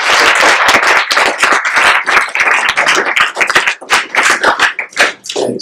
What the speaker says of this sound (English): We give one more round of applause to our